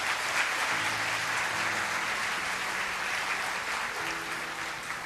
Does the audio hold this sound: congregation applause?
yes